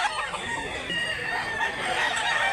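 Fighting rooster bloodline birds at a poultry sale in Mantalungon, Cebu, crowing and clucking over one another in a continuous chorus, close and fairly loud.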